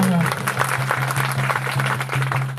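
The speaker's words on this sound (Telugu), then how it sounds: "చప్పట్లతో దేవునికి" A church congregation at an outdoor cross-hill festival claps together for God: a dense, steady run of hand claps over a low droning musical tone, with voices mixed in.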